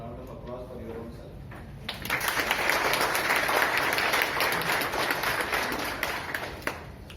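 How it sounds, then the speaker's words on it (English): Women at a wellness and yoga workshop applaud themselves, a round of clapping that swells after a quieter stretch with speech at the start and continues steadily. "I want you to give a big round of applause for your own self."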